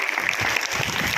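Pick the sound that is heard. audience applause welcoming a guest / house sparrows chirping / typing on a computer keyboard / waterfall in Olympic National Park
audience applause welcoming a guest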